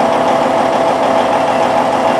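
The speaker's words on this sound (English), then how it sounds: "This is a Freightliner cab over engine, twin steer, four axle rigid truck." Freightliner cab-over twin-steer four-axle truck with its engine idling nearby, a loud steady diesel rumble with a fine mechanical patter and no voices.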